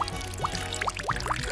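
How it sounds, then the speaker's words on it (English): Dirty water poured into a bottle filled with sand, rocks and colored gravel, a short, steady pour with gurgling and small splashing blips. "Lastly, I'll add the dirty water."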